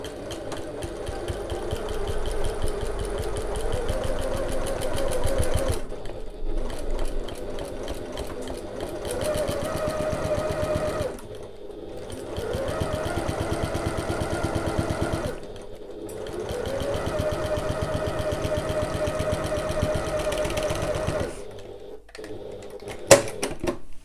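A sewing machine stitches the seam joining a contrast band to the exterior of an oval bag, running in three long steady bursts separated by short pauses, close and clear, with a small clunk near the end.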